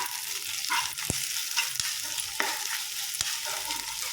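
Four eggs with ginger paste being mixed in a hot pan: a continuous close sizzle overlaid with quick spoon scrapes and a few sharp taps against the pan, with no voices.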